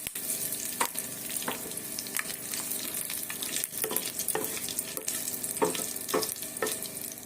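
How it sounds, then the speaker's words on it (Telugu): Tempering spices and curry leaves sizzle in oil in a pan, a continuous faint hiss broken by repeated pops and crackles, heard alone without talk. "పోపులు వేసుకుని కరివేపాకు వేసుకోవాలి"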